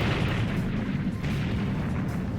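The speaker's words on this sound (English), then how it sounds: "You know, real explosions have like black smoke to them." A video-game explosion in Mighty No. 9 booms as a loud, dense low rumble that sustains steadily without pause, with no voices over it.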